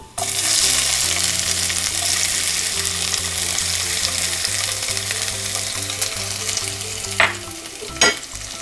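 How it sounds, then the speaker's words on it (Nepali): Chopped onion and two dried chilies frying in a pan for a pea-leaf and potato curry, a loud, dense sizzle running continuously, with a couple of sharp clinks of stirring near the end. "थोरै प्याज काटेर लिएको छु, यो पनि राखिदिउँ"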